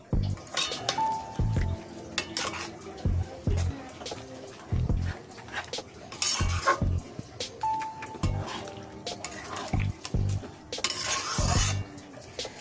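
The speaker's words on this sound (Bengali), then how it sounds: "এবার খুব ভালো করে নেড়ে দুধের সাথে গাজরটা মিশিয়ে দেব" A spoon stirs grated carrots into milk in a pot for Bengali carrot halwa, giving irregular clinks and scrapes against the metal, fairly close and steady, with brief louder knocks spread across the stirring.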